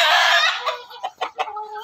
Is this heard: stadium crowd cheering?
no